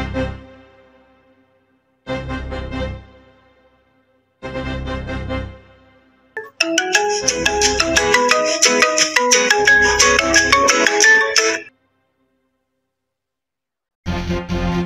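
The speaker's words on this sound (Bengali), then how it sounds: "তোর ফোন বাজতেছে কেন?" A mobile phone ringtone plays a musical melody loudly in several bursts separated by short silences, with one longer stretch in the middle. No one speaks.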